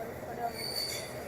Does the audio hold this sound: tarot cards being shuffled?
no